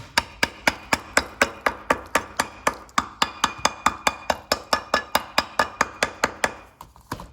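Steady rapid hammer-and-chisel strikes chip thick, scaly rust off the pad contact areas of a 2016-2021 Honda Civic rear brake setup, about four sharp metallic blows per second, close and loud, with no talking.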